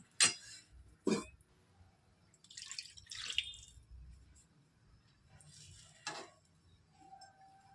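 Water poured from a vessel into a pan of potato and pointed gourd curry, heard as a few short splashing bursts and drips with quiet gaps between them, fairly close and with no talking.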